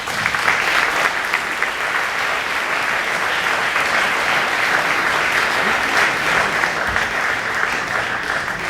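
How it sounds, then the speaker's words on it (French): An indoor audience at an evening event in a hall claps steadily and fairly loudly, a dense even applause that holds for the whole stretch without any talk. "je vous demande donc d'applaudir Dominique Estrosi"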